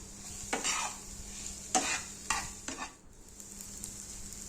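Onions fry with turmeric, salt and cumin powder in a pan, giving a soft, steady sizzle. A few scraping stirs stand out above it, close and fairly quiet, with no voices.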